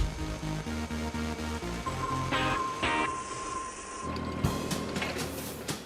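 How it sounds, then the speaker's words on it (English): Factory robot and conveyor handling metal discs for inspection and trimming, a dense mechanical clatter of ratcheting gears and repeated thumps with a steady whine, loud and continuous. "The robot drops the discs onto a conveyor, where they get inspected and trimmed down to size."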